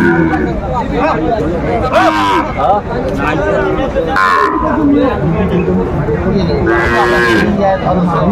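Sahiwal cattle low repeatedly at a busy Faridpur livestock market, loud and near, over a constant babble of bargaining voices; several drawn-out moos rise above the crowd.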